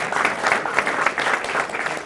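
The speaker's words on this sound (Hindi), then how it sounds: "तालियां जी बहुत तालियां।" A television studio audience applauds in a brief burst of steady clapping that fades at the end.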